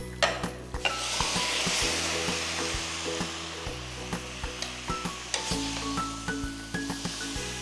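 About 800 grams of cleaned duck sautés in a pan for Kuttanadan duck curry, a steady close sizzle broken by repeated scraping strokes of a spoon, with no talking.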